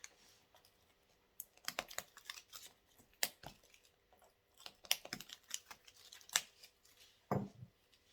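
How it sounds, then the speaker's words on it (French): Scissors trim leftover scraps of paper from a scrapbook album cover, a close series of crisp snips and rustling paper handling in irregular bursts, no talking. "Je vais enlever avec les ciseaux parce que là, il me reste des bouts."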